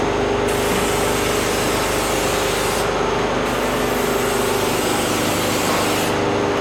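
Fluid Film undercoating sprayed under an equipment trailer, a loud, steady, close hiss of the sprayer that runs almost without a break, with two short dips in the spray, and no talk.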